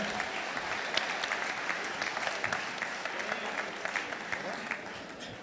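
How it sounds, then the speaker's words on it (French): Steady applause from an audience at a live-streamed education event, many hands clapping in a continuous dense wash that holds for several seconds before easing slightly, with faint voices mixed in underneath. "Je pense qu'on peut les applaudir."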